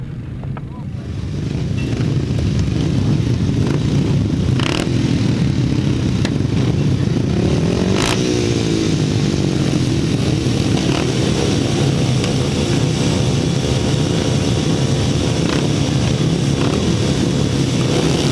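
Grasstrack motorcycles in an upright-class heat race at a Bewdley meeting, engines roaring loud and continuous for the whole stretch, with a public-address commentator talking over the racket.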